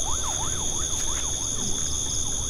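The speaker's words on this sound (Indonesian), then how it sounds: "ada suara ambulan." A distant ambulance siren warbles up and down in a steady repeating yelp beside a river, fairly faint beneath constant high-pitched droning tones.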